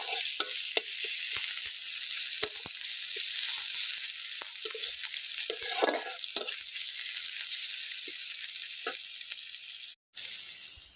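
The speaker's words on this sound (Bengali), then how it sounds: "পেঁয়াজটাকে সুন্দর করে ভেজে নেবো একটু লাল লাল করে।" Chopped onions fry in hot oil in a wok after a black cumin seed tempering, giving a loud, steady sizzle broken by scraping stir strokes, briefly cutting out near the end.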